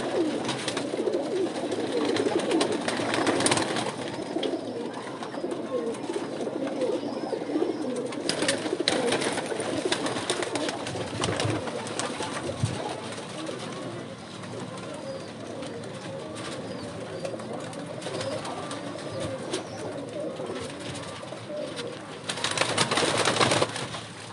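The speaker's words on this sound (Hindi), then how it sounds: "क्रीज में है कबूतर" Pigeons cooing on a rooftop loft, with soft, continuous low cooing and rustling carried steadily throughout, plus occasional louder bursts of movement near the start and end.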